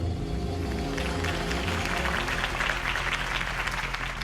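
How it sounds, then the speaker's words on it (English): Crowd applause after a political campaign speech in Batman: The Telltale Series, a dense sustained clapping from many hands that swells slightly toward the end over a low rumble. "If only Mr. Wayne, my campaign's largest backer, could have heard that applause"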